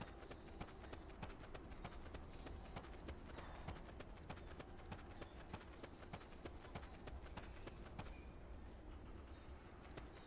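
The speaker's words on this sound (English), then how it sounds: "I do hear some footsteps now." Footsteps in the Metal Gear Solid: Peace Walker video game, a faint, rapid, steady clatter of steps running continuously under a dense background wash, with no voices.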